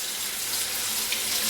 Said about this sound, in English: I'm going to rinse that in hot water